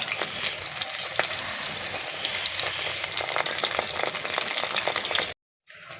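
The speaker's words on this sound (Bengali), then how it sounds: "উল্টি পাল্টি ভালো করে লাল লাল করে ভেজে নেব।" Pieces of a cabbage snack frying in oil, with a dense, crackling sizzle heard up close, then a brief cut to silence before a short return of the frying.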